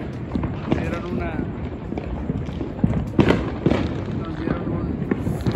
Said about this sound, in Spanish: Muy bonitos cohetes ahorita miramos.